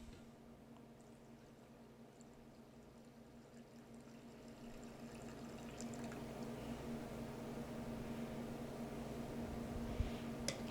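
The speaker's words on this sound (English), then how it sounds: "And then we're going to add our warm water." Warm water pours steadily into a well of semolina flour, a continuous low liquid rush that builds slightly in loudness over about ten seconds, heard alone.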